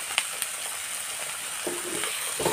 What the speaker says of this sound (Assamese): আমাৰ পৰুৱা টোপৰ ভাজি হৈ যাব